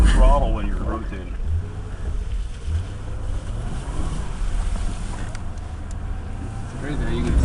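Car engine droning steadily through a drift with throttle and countersteer, a sustained low rumble with wind noise, and people talking over it inside the car.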